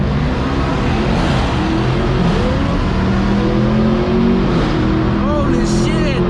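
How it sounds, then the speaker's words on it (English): An 800hp Dodge SRT Hellcat launches with launch control on a wet road, a loud, close, continuous engine roar with rising revs and whine, with voices in the car over it. "All right, Matthew, launch control."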